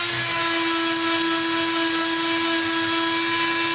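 A grinder wears down the peened end of a YZ125 motorcycle shock shaft, giving a steady high-pitched whine with a strong sustained tone, loud and continuous throughout, no talk.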